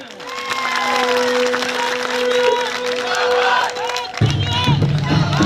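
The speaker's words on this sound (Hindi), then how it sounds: "एक बार स्टेज पे आने के लिए तालियां।" Crowd at a political rally and march in Kota cheers, claps and shouts slogans, a loud sustained roar with voices rising over it, swelling again near the end.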